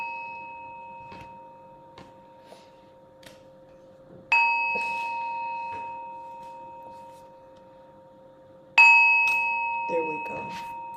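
Three bright chimes ring out to open a recovery meeting, the first struck near the start with faint ticks before, then two more spaced several seconds apart, each ringing and slowly decaying over a quiet background.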